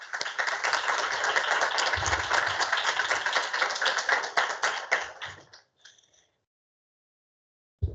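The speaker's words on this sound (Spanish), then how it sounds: "La recibimos con un aplauso." Audience applause welcoming a Kichwa poet at a literary gathering, brisk dense clapping that holds for about five seconds, then thins to a few scattered claps and falls silent.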